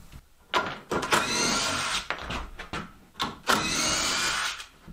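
A power drill backs screws out of a temporary wall in an old house under renovation, giving several short whirring bursts with brief pauses between them, close by.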